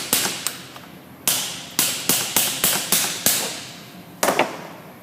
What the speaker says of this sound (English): a hammer to release the locking collar, making sure you're spinning it counterclockwise